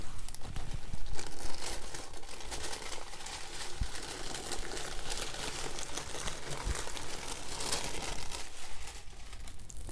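Cold wax and oil paint being peeled away as paper is pulled off a painting, a continuous close crinkling and tearing rustle that runs steadily for the whole stretch with no talking.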